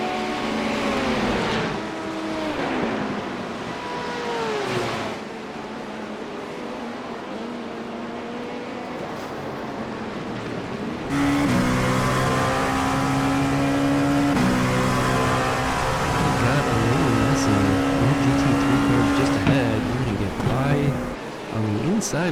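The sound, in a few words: LMP2 race car engine in iRacing video game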